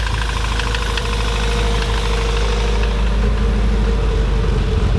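A Toyota Corolla FX GT engine idles unevenly on old petrol, a steady close rumble with an irregular knocking pulse running through it, alone with no voices.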